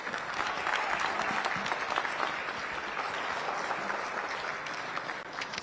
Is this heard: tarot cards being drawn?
no